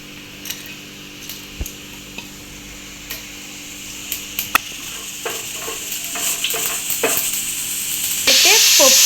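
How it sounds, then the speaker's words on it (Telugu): Tempering spices dropped into hot oil in a pan, scattered ticks and stirring clinks at first, building into a loud, continuous sizzle that surges near the end; no speech. "ఆయిల్ హీట్ ఎక్కాక నేను ముందుగా చూపించిన తాలింపు దినుసులను అయితే వేసేసుకోండి."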